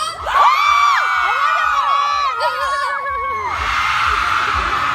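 At a barrio fiesta in Dubai, a crowd cheers and screams in loud, rising shrieks and whoops that hold steady for several seconds, close and full.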